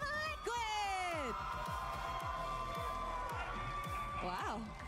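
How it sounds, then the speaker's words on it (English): A crowd in an esports arena at a Mobile Legends tournament cheers and whoops for Team Liquid, a loud continuous roar with rising shouts, while an announcer's voice carries over it. "Wow, the crowd goes wild."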